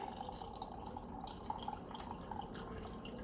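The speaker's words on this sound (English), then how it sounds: "I'm just gonna pour the rest of that broth right into that little pot there" Broth poured into a small pot in a home kitchen, a steady close trickling and splashing stream with faint droplet patter, heard alone without voices.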